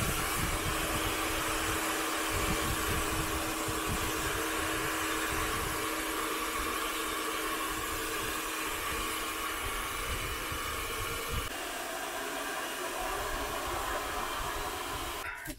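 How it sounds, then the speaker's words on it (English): A steady, loud blowing roar of a hair dryer runs without a break, a constant airy whoosh with a low hum beneath it. "I'm going to hit it with the wife's hairdryer"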